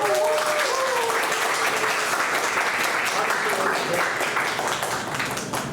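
Audience applause at a church denomination New Year gathering, a sustained, full clatter of many hands, steady and fairly loud throughout, with faint voices mixed underneath.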